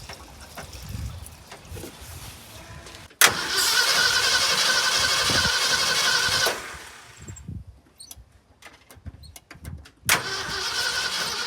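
A 1969 Ford F100 engine, primed with a little fuel, cranks with a loud sustained churning burst of about three seconds that cuts off, leaving quiet clicks, then a second loud attempt begins near the end.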